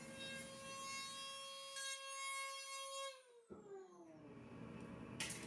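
Dremel rotary tool cleaning up a part for a Star Wars baton prop, a high steady whine with clear tones that drops in pitch as it spins down, then a brief grinding contact near the end.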